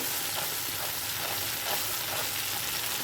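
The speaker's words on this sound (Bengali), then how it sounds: "বেটে রাখা মশলাটা যোগ করে দেবো সর্ষে তেলে দিয়ে বেশিক্ষণ ভাজতে নেই" Ground spice paste fries in hot mustard oil for a Bengali vegetarian parwal dish, producing a dense, loud, continuous sizzle with soft stirring movement underneath.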